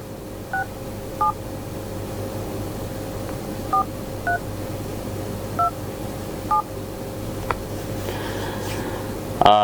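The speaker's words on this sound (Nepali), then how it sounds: "मैले आफैले नम्बर पनि डायल गरिराखेको छु" A telephone number is dialed on a keypad, producing a series of short, evenly spaced beeps over a steady electrical hum, close and clear, with no voices.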